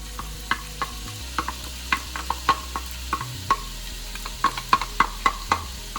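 Onions hit about three tablespoons of hot oil in a pan for a green gram stew, a steady sizzling hiss dotted with sharp, irregular pops and spatters and a low hum underneath, no voices.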